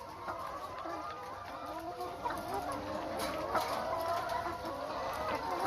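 Layer hens in a battery-cage house cluck and chatter continuously, their many overlapping calls forming a busy, mid-distance flock din with no speech.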